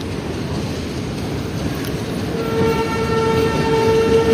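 A train rumbles loudly nearby at Colombo station, Sri Lanka, at night, with a steady roar and a tonal horn-like hum rising in the second half.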